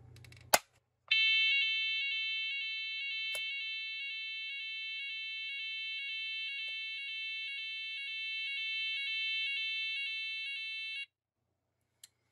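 A Legrand Type 4 fire alarm panel, ref. 1 405 61, sounding in test mode: a loud, steady warbling electronic alarm tone runs for about ten seconds after a click, then cuts off abruptly.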